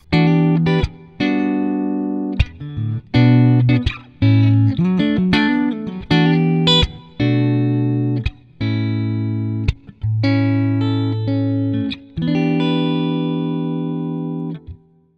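Electric guitar played clean through both humbucker pickups at once, EVH 5150-inspired handbuilt pickups, ringing out a series of sustained chords and single notes with clear pauses between them, played alone without talk.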